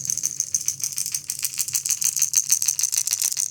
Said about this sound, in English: rattle and a knocker in the front, knocker here, knocker towards the front chamber, rattles in the back.